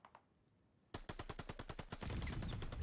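Gunfight in a competitive shooter match: after a faint lead-in, a rapid burst of about a dozen sharp, loud gunshots in quick rhythm, ending in a sustained noisy roar of fire.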